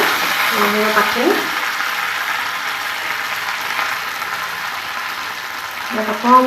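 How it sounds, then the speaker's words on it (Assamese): Curry leaves and split dried chillies fry in a pan for a fish curry with melon seeds, giving a steady, moderate sizzle throughout, with brief talking at the start and end. "অকণমান এনেকৈ ভাজি পেলাই নৰসিংহ পাতখিনি"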